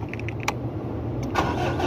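A Mitsubishi Adventure engine is started: a steady low idle rumble runs throughout, with a short burst as the engine catches about two-thirds of the way in. The sound is close and clear, with no talk.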